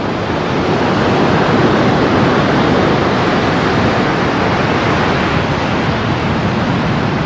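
Ocean surf breaks on the seashore of Gabon where the equator meets Africa's western coast, a loud, continuous, even wash of waves with no talk.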